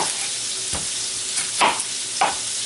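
Beef sizzling in a pan, a soft continuous frying hiss close by, broken by a few brief scraping stir strokes, with no talk.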